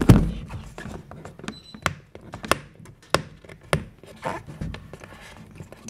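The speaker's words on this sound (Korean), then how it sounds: "테이프 좀 뜯겠습니다" Packaging tape being pulled and ripped from a box in short bursts, with crackly taps and thumps close by.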